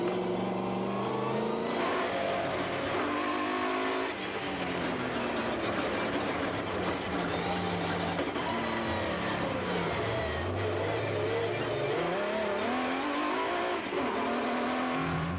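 Onboard engine roar from the Nissan and Ford Ranger race trucks at the Tarka 400 desert race, a steady loud drone with revs rising and falling as gears change, heard from inside the cab with no talk.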